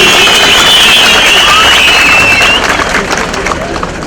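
A large crowd at a political rally for Ali Babacan bursts into sustained applause and cheering, a loud, dense wash of clapping with a few whistles on top that stays full before easing slightly toward the end.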